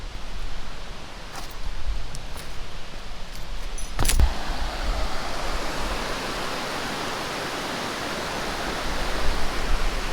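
A small waterfall pours into water as a loud, steady broadband rush close by, with a brief clattering knock partway through.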